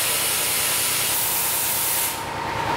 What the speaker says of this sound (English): I was clearing out the water from the compressor and the pipe blew.